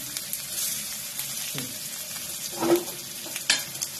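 Fish frying in a pan just after being flipped: a steady close hiss of oil with a few brief clinks and bursts of louder crackle partway through.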